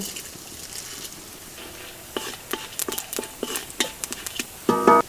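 Chana dal and urad dal fry in oil in a kadai, a soft steady sizzle broken by sharp clicks and spoon scrapes against the metal, close and with no talk.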